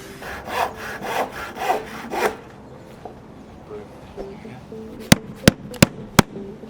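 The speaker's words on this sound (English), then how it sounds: "we're going to cut a batten in there." Handsaw cutting a wooden roof batten on a building site, several quick close rasping strokes, then a quieter pause and four sharp knocks or taps near the end.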